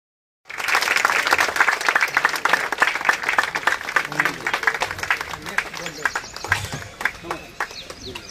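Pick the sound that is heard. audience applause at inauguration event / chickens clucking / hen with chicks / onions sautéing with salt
audience applause at inauguration event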